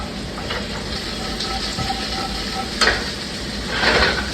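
Asparagus dropped into a hot pan beside seasoned shrimp, a continuous loud sizzle and hiss with a sharp clack partway through and a swelling burst of frying near the end.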